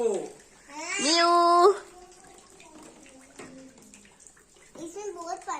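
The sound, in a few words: water running into a tub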